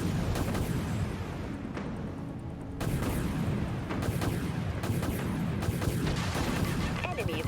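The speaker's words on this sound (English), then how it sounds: "Aye, launch torpedoes." In a space battle video game, torpedoes launch and explode in dense, continuous booms and crackling blasts. Loud, overlapping detonations rumble throughout, with a sharp surge of explosions partway through.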